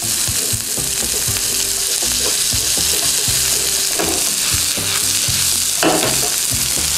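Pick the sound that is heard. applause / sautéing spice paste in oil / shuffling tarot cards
sautéing spice paste in oil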